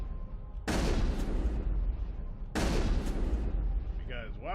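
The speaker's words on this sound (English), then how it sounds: "Because why not shoot things with a shotgun?" Two heavy shotgun blasts in the video game Mass Effect, each a sharp loud boom followed by a decaying rumble, spaced about two seconds apart, with a brief whooshing effect at the end.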